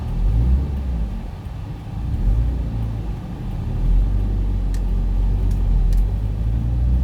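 Dense road traffic with many cars passing, a continuous low engine rumble that swells and eases in waves, with faint higher ticks late on and no talk.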